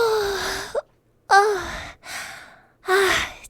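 A voice imitates a flower yawning in a story, with a few long drawn-out sighing yawns, each rising and then trailing off, loud and close with pauses between.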